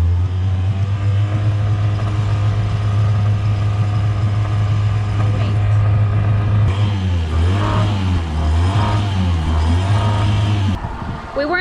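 Dinghy outboard motor idling close and loud, then revved in several wavering bursts before settling, with a person speaking faintly over the engine noise.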